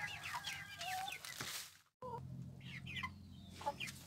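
Chickens clucking in a backyard coop, several birds calling in short repeated bursts at close to middle distance over a steady low hum, with one brief silent break partway through.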